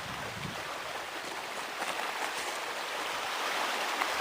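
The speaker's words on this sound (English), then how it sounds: "Those waves are kind of noisy." Noisy waves breaking along a shore make a steady, loud broadband rush with surges and no pauses, with no voice heard over it.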